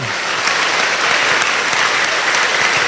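Congregation applauding together at a church service, a dense, steady wash of many hands clapping throughout, loud and close, with no talk over it.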